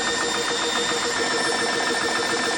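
An AEA air compressor runs with its cooling fans on, a loud, steady, dense mechanical roar and whine that holds without a break, with no talk over it.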